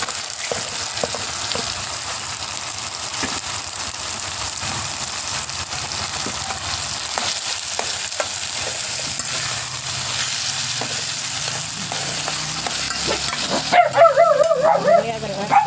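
Pitaya flowers fry and sizzle in a pan, a continuous crackling hiss with faint scraping as they are stirred, growing a little busier near the end.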